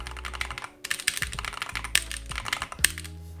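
Rapid typing on a mechanical keyboard with an 8K polling rate: crisp, uneven clacks of keystrokes with a few sharper, louder hits, close and unaccompanied by voices.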